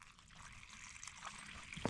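Water is poured out for a dog to drink on a mountain trail, a faint, close trickle and splash ending in a brief louder spatter, with no talking.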